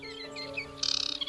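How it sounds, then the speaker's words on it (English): An aquatic warbler calls in the Biebrza marshes, Poland, giving a short high chirp followed by a quick rattling trill, fairly close and clear over a quiet steady background. "Here also lives one of Europe's biggest aquatic warbler population."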